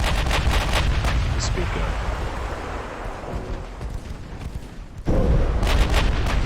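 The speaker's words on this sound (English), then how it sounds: "there's a torpedo hit, but it didn't do much damage" A torpedo strikes a warship in the Ultimate Admiral Dreadnoughts naval battle game, heard as loud, dense rumbling booms over continuous battle noise, with a fresh heavy blast near the end; a voice speaks briefly.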